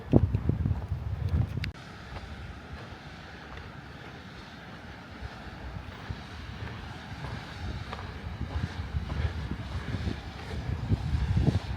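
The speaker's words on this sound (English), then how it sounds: "because the temperature drops and the wind really picks up" Strong wind gusting at the alpine tree line on a Colorado mountain hike, a steady broadband roar buffeting the microphone, loudest at the start and building again toward the end, with no talking.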